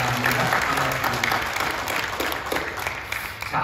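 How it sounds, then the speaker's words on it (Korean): Welcoming applause from a congregation at a Saturday dawn prayer service in a church: sustained clapping from a crowd at moderate volume, with some voices underneath. "우리 기관에서 오신 분들 박수로 환영하겠습니다."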